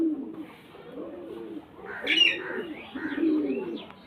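Pigeons, a female and a male, coo in low, rolling murmurs close by, with a brighter chirp rising midway and soft rustling between calls.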